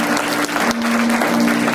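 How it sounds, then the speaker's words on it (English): An audience claps warmly at a spiritual New Year gong gathering, a dense, steady burst of applause lasting under two seconds with no talk over it. "Let's give Norma some applause."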